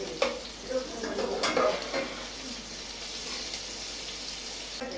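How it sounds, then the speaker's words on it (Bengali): Onions frying in hot oil in a home kitchen until deep reddish-brown for crispy beresta, a steady soft sizzle with a few scrapes of stirring, no voices. "পেঁয়াজগুলো বেরেস্তা করার জন্য যেমন ভাবে ভাজে লাল লাল করে, ঠিক সেইভাবেই ভেজে নিতে হবে"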